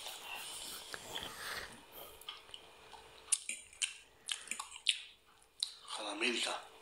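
Close-up chewing of pork loin meat, with wet, irregular smacking and squishing bites in quick bursts against a quiet background, and voices talking early on.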